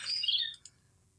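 A brief bird chirp sound effect for an animation: a quick bright twittering burst followed by two tiny pips, then fading to near silence.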